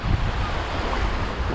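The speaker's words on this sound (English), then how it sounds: "Wind straight in my face," Wind blowing hard at the seashore during sea bass lure fishing, a steady close rushing roar buffeting the microphone with surf noise underneath, no voices.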